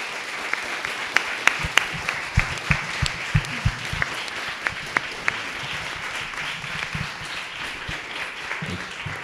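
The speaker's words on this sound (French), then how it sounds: "on va juste les applaudir extrêmement fort" Audience applause at a round-table talk on ecology, with a wash of many hands clapping steadily throughout and a few sharper individual claps standing out near the front.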